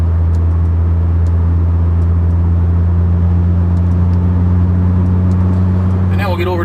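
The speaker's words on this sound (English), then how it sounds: "the exhaust really pretty quiet when you're not getting on the throttle hard. Got a good tone to it, nice authoritative note, really no drone to speak of." Volvo fitted with an IPD turboback exhaust cruising at light throttle, giving a steady, low, smooth engine rumble with a deep hum and no drone, heard from inside the car throughout.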